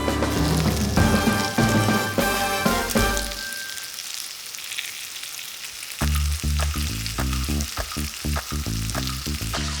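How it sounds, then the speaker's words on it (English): Beef short ribs sear in a hot pan with a steady broadband sizzle, loud and close, under background music with a rhythmic beat. "we're gonna get them hot, get them frying, sear them"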